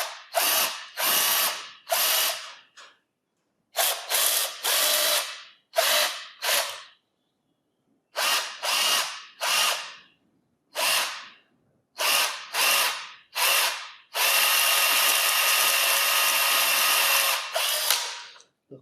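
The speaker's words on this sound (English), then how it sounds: "Nice shiny new drill bit for this one." A power drill with a new bit whirs in short repeated bursts separated by pauses, ending with one longer sustained run, loud and close, during a Willys MB engine build.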